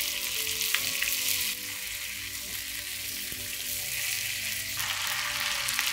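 Hilsa fish pieces fry in a pan of hot oil, a steady bright sizzle with crackling spits, close and alone without any voices, the hiss dipping and swelling as the fish settles.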